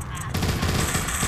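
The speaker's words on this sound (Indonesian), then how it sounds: "Tembakannya sembarangan tuh." Scattered gunfire in the zombie survival game The Walking Zombie 2, dense low-pitched bursts starting abruptly after a short lull and rolling on continuously at close, steady loudness.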